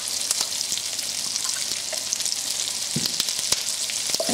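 Carrots frying in a hot pan for a chicken stir fry, a steady close sizzle with occasional small clinks and stirring knocks, no talking.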